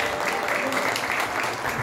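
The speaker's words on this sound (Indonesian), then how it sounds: "kasih tepuk tangan dong buat muda" Applause from an audience at a community AIDS awareness session in Depok, a steady broadband clapping wash lasting about two seconds with faint voices mixed in.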